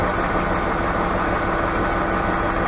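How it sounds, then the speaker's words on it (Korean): A Dodge Dakota V8 idles with an electric cooling fan fitted and the fan clutch removed, giving a steady, even engine drone with no speech. "엔진 사운드를 들어보면 순수 엔진 사운드입니다"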